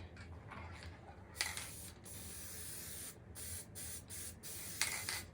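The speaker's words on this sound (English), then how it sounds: "I just spray the pieces in a box top" A can of spray adhesive hisses in several short bursts onto wood cutouts in a box top, a couple of bursts longer and louder, against a quiet background.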